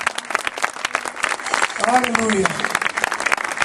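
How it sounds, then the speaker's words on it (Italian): A church congregation applauds at an evangelistic campaign meeting, a dense wash of clapping from a crowd with a voice calling out over it partway through. "Amen, se per Gesù più forte questo applauso,"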